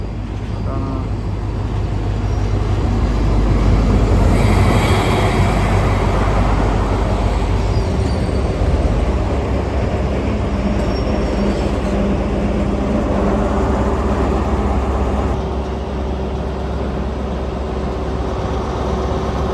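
A Rail Adventures rail tour train pulls away from a station in Durham, a steady low engine drone and rumble holding throughout at moderate loudness, with a faint higher whine near the start.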